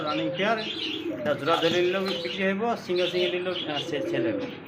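A pair of Millibar pigeons coo softly in a pigeon market, their low calls blending into the background under near, continuous talking.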